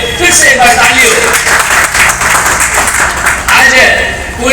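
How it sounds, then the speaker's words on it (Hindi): An audience at a sit-in protest applauds in one dense, continuous burst of clapping lasting several seconds, loud and close, with voices mixed in. "एक बार जोरदार उनके लिए फिर से एक बार ताली हो।"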